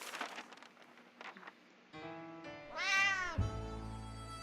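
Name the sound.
cat meowing and scratching the hatch in video game 60 Seconds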